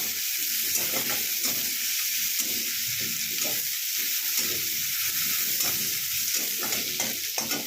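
Onions sizzle and fry steadily in a hot pan, with a continuous crackling hiss and faint scraping stirs throughout, close and fairly loud with no voices.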